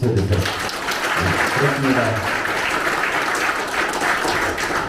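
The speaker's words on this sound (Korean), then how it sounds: "동의하시면 또 한번 박수 쳐주세요." A crowd applauds at a 2022 Incheon presidential election campaign committee dissolution ceremony, dense clapping sustained throughout, with a voice briefly heard near the start over the noise.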